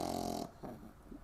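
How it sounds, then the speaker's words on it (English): A small dog purrs and snorts in short rumbling bursts, loud and close at first, then softer, uneven breaths. "This is the only dog that purrs."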